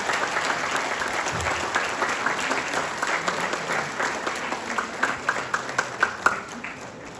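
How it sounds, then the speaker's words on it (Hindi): A workshop audience breaks into loud, sustained applause for a spiritual speaker, many hands clapping together in a dense wash that thins toward the end. "सब लोग एक बार जोरदार तालियां बजाएंगे नारायण स्वामी गुरु जी के लिए।"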